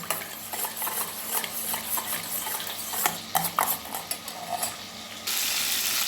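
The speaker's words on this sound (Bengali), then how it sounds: "মাছগুলো ভাজা হয়ে এসছে এবার আমি তুলে নেব" Hilsa fish fry in hot oil with a continuous hiss, broken by frequent scraping and clinking as a utensil stirs and turns the pieces in the pan.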